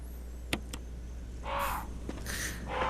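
A crow caws in the Resident Evil video game, a few harsh calls that repeat across the moment against a low steady background hum, with no talking.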